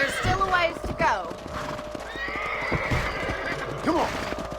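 A horse in the western game Red Dead Redemption whinnies loudly twice amid a steady clip-clop of hooves trotting close by, with a voice talking over the riding.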